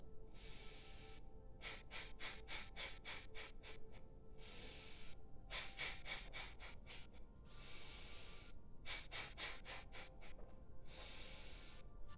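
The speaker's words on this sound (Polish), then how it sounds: "oddech oczyszczający kapalabati, czyli maksymalnie wciągam powietrze do nosa" Repeated sharp forceful nasal exhalations in quick rhythmic bursts, with pauses between sets, close and loud, like a kapalabhati breathing exercise.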